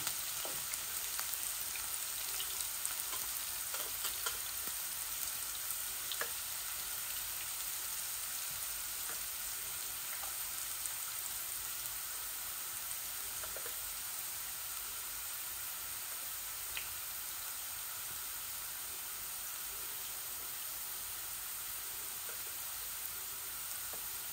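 Garlic and dry spices fry steadily in hot oil, giving a continuous soft sizzle with faint crackles throughout and no voices.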